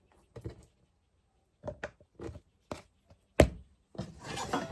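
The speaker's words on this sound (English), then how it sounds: "our onions" A knife chopping onions on a cutting board for mirepoix, a few sparse, separate thunks with pauses between them, close and fairly quiet, ending in a brief rustle.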